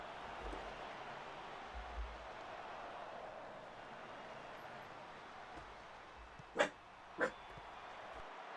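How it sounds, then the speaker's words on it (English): A dog indoors gives two short, sharp barks about half a second apart, standing out from quiet room hiss near the end. "Pardon the dog there."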